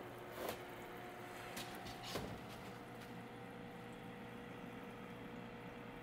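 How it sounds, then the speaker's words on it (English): A classroom fish hatchery tank's filter and aerator run with a faint, steady hum and soft bubbling, alone and unchanging, with a couple of light clicks. "Got the filter working, the aerator's working."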